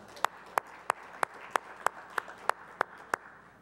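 Slow, evenly spaced single claps, about ten sharp hand claps at a steady beat, sound during a round of applause for a councillor at a special municipal chamber session honouring the Terço dos Homens, with no voices.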